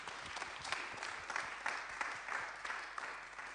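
Audience applause at a round-table event in a conference setting, a continuous, moderately quiet patter of many hands with a few sharper claps standing out, heard from a little distance.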